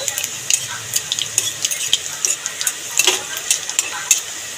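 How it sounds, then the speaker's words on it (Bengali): Panch phoron spices crackle and sizzle in hot oil for amra chutney, with a steady bright hiss and scattered pops, plus occasional light stirring clinks, close and fairly loud. "ফোড়নটাকে একটুখানি ভেজে নেব।"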